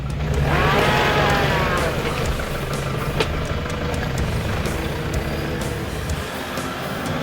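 Stock Toyota Hilux 4x4 with no lift kit, diff lock or traction control, driving off-road; a steady, loud engine and road rumble runs throughout with no talk.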